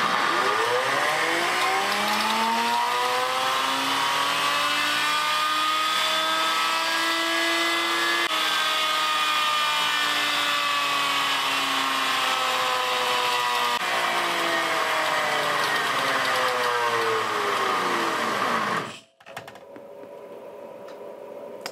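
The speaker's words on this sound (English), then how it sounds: "Last chance, because the motor's probably not gonna survive another test like this." A shop vac motor screams steadily under a final destructive horsepower test, its whine sliding in pitch for about nineteen seconds, loud and alone, before cutting out abruptly near the end.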